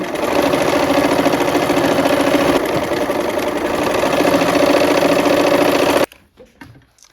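A sewing machine stitches fabric rectangles with a loud, rapid, steady mechanical whir for about six seconds, then stops abruptly, leaving faint handling sounds.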